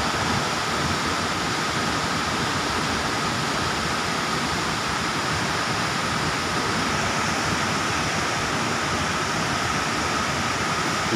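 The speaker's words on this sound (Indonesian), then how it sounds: "air terjun maksudnya" The Curug Cipendok waterfall roars in a constant, dense broadband rush, loud and close, steady throughout with no talk over it.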